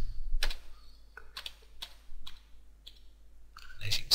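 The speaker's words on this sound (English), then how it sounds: "what we need to do now is type dir just to make sure those files have gone" Several separate keystrokes on a computer keyboard as a short command is typed, each a crisp, close click with pauses between, alone in a quiet room.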